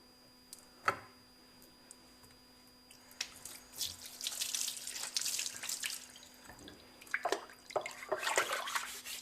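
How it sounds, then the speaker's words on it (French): Rainwater from a filter system with unscrewed cartridges running from a tap, faint at first with a few drips and clicks, then a steady hissing flow that swells and wavers, with a constant low hum beneath and no talk. "on va le voir quand on va faire couler l'eau"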